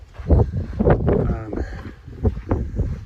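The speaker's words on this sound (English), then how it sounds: "It's getting pretty windy again." Wind blows and buffets against the microphone in gusts on the Pacific Crest Trail in Southern California while someone talks over it throughout.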